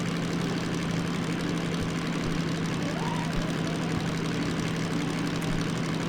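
A DM3 diesel locomotive in Derail Valley runs steadily at about 1000 RPM under load, a loud, constant low engine drone with a fixed hum that holds throughout, heard alone.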